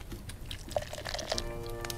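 A drink is poured in the tavern game Travellers Rest, a faint, brief trickle of liquid with small splashy drips, quiet and alone.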